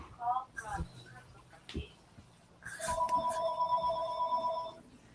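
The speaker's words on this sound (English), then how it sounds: "I got to take a phone call" A telephone rings indoors with a steady electronic tone lasting nearly two seconds, preceded by a few brief bursts of faint background noise.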